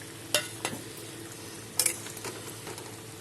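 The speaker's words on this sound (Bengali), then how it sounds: "এখন ভেজে রাখা মাছগুলো দিয়ে দেবো" Pre-fried rohu fish pieces go into a simmering curry under a soft continuous bubbling sizzle, with a few sharp clinks and splashy knocks near the start and middle, close and fairly quiet.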